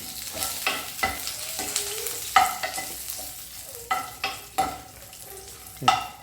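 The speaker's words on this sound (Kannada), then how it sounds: "ಈಗ ಒಂದೆರಡು ಎರಡು ಇದಕ್ಕೆ ಹಸಿ ಕರಿಬೇವು ಹಾಕ್ಕೊಳ್ತಾ ಇದ್ದೀನಿ" Fresh curry leaves and cumin sputtering in hot oil, with a steady close sizzle punctuated by several sharp crackling pops and scraping stirs through the few seconds.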